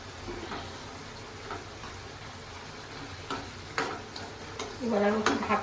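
Rohu fish pieces frying in a spiced masala kalia after a splash of water, a low steady sizzle broken by spoon scrapes and a louder bubbling surge near the end.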